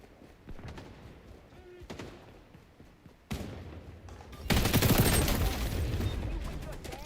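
ACR rifle gunfire in XDefiant: a few scattered thumps, then a sudden loud, dense stretch of close automatic fire and impacts that carries on to the end, with a player talking over it.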